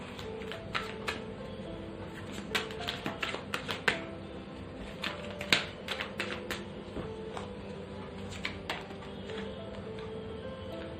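Oracle cards are drawn and shuffled close up in a quick, irregular run of light papery flicks and taps, with no talking.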